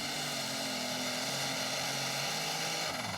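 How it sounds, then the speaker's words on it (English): Unlimited super stock pulling tractor engine roaring at full power during a pull, a loud continuous droning blare that holds steady throughout with no voices over it. "I think for Jeff Hodem, he just wants a pass where he is consistent and his tractor stays together and does not catch on fire."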